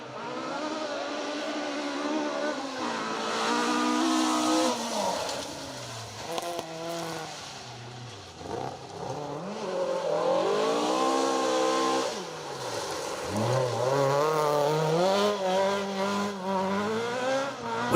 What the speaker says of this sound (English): With the car constantly fighting for traction, it would take all of Paul's car control to keep them on the road.